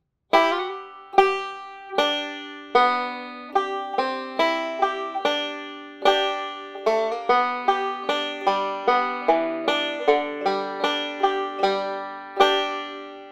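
A banjo picks out a new tune alone, with crisp plucked notes in a steady rolling rhythm, each note ringing and decaying quickly, close and clear.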